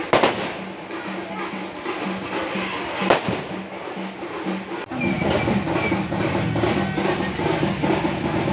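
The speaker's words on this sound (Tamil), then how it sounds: "சாமி வந்த டைம்ல எல்லாரும் பட்டாசு செம ஜாலியா வெடிச்சிட்டு இருந்தாங்க" Firecrackers burst repeatedly during a village temple festival for the deity Koothandavar and Aravan, with one sharp crack standing out, then a denser run of pops over steady crowd noise.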